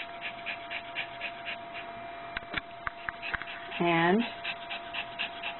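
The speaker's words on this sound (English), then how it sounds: "she's also shaking, shivering, and panting" An anxious dog wearing a Thundershirt pants in quick, rhythmic breaths close by, with a brief whimper near the end and a short spoken word.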